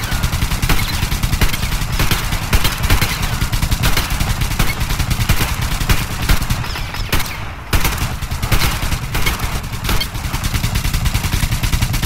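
Sustained, dense automatic gunfire from an enemy with a machine gun in the post-apocalyptic shooter Metro Exodus, a loud continuous rattle of rapid shots lasting throughout with only a brief dip near the middle.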